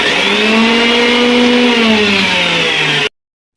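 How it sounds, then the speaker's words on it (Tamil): A mixer grinder with a small jar purées cooked apple, beetroot and carrot for homemade jam, a loud, steady motor whine that runs without a break for about three seconds and then cuts off abruptly to silence. "மிக்சியில் போட்டு கொஞ்சம் கொஞ்சமாக போட்டு அரைச்சிக்கணும்"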